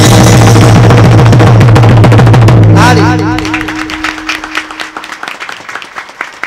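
A kirtan audience claps loudly over dense, droning music at first. The music drops away and sharp, rhythmic clapping continues, with some voices underneath.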